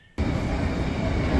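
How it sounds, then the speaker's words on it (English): An NS Dutch railway train rumbles past in a sudden loud, steady roar that starts abruptly and holds without letup, close by, with no voices. "This is the famous NS train."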